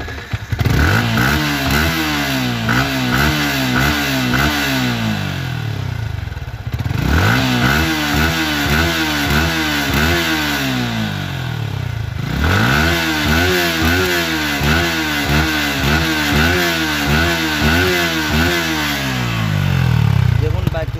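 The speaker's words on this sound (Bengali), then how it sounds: "এখন দেখাবো হচ্ছে এই বাইকটির সাউন্ড কোয়ালিটি এবং পারফরমেন্স" A second-hand Yamaha M15 motorcycle engine revs up three times, each rev a loud rising whine that falls back toward idle, with a rough idle clatter between and steady engine noise throughout.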